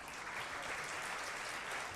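An audience applauds steadily, a soft, even patter of many clapping hands heard from some distance.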